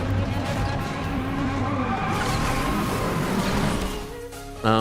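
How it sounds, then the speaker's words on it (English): A race car engine in the Asphalt racing game drones loudly with tonal revving and tire noise, easing off near the end before a sudden burst returns; a voice talks over it. "Oh, listen to this engine."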